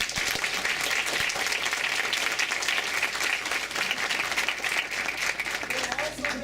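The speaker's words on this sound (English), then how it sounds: "Can we give them a round of applause?" An audience at the opening address of a 2015 APS undergraduate women in physics conference at the University of Michigan applauds the organizers: a full, sustained wash of clapping from a large crowd, with some voices mixed in.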